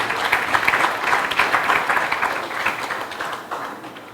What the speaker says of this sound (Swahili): Makofi mengi kwa J-Root